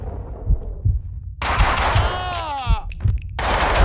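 Gunfire in the video game Max Style 2, heard as repeated sharp low thumps through the clip, and a denser, louder burst in the second half that comes with a whooshing, sweeping effect.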